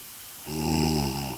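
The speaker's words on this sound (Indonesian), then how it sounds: "Itu bukan suara mesin, suara ngorok." One drawn-out, rattling snore from a person rises out of quiet and holds steady for about a second before fading.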